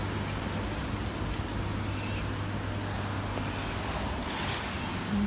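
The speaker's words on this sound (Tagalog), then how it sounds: "Lakas ng hangin. Parang lilipad na tong payong ko." Strong gusting wind roars steadily outdoors in the rain, buffeting an umbrella, with a continuous dense rush and no talk.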